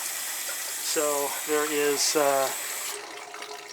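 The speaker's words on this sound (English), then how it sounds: "If we open this up, you can see we have significant water coming out." Water rushing steadily from an opened valve body in a commercial building's plumbing, a constant broadband hiss with a voice speaking over it briefly.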